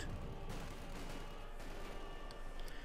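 Artillery barrage from Company of Heroes 2, a dense, continuous rumble of explosions and gunfire with sharper blasts near the start and middle, loud and unbroken, with no talk.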